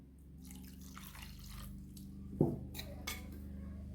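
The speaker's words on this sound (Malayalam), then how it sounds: "ആവശ്യത്തിന് വെള്ളം ഒഴിച്ച്" Water poured into a cooking pot holding a Kerala fish thoran mix of grated coconut and tamarind, a short splash with a few drips and sloshes over a steady low kitchen hum, with no talking.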